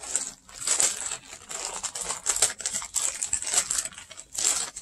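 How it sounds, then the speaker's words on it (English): A plastic bag is ripped open by hand while unboxing a shipment of yarn and fibers, crinkling and tearing in loud close bursts and pauses, with no voices over it. "Just rip the bag open."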